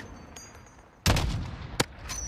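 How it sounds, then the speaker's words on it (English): Video game gunfire: a sharp, loud burst of shots near the middle of the clip, followed by a single cracking report a moment later, over a low steady background rumble. "I shot him three times!"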